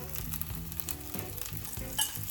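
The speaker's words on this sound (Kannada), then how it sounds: "ನಾನು ಸ್ವಲ್ಪ ಆಯಿಲ್ ಹಾಕ್ಕೊತಾ ಇದ್ದೀನಿ." Oil sizzles on a hot pan as it is added to a rava dosa cooking over low flame. The frying hiss is soft and steady and runs the whole time, with faint scraping or stirring sounds underneath.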